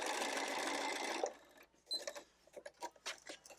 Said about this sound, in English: I'm going to backstitch right here at the finish